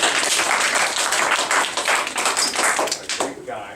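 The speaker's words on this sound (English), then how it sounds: "Give Colton a big clap." Live audience clapping for a volunteer called up from the crowd at a magic show, a dense, steady patter of many hands that fades near the end.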